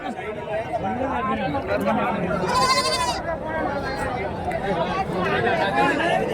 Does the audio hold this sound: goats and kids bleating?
yes